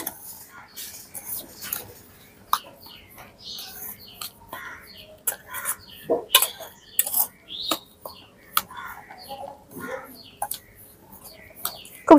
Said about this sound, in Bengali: খুব সুন্দরভাবে গুঁড়ো দুধের সাথে সুজিটা মিশিয়ে নিয়েছি।